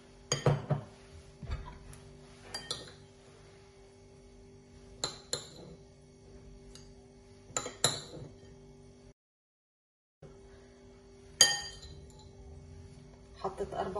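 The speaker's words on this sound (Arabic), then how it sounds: "حطيت 4 معالق طعام صغار بندق، بحركهم مع بعض" A spoon clinks against a bowl in scattered bursts, scraping and knocking hazelnuts around, with quiet gaps and a steady low hum beneath.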